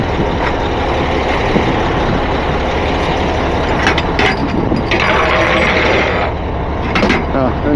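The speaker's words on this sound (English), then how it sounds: "Now, lose our PTO, idle the truck down," A truck engine rumbles steadily at close range after its PTO is disengaged, a loud continuous drone with occasional metallic clanks and a voice speaking over it.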